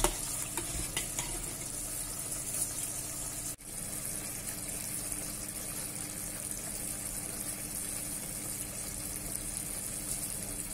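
Rice being stirred into a bubbling tamarind and oil mixture in a pan, a continuous sizzle with scraping stir sounds and one brief clunk, no voices.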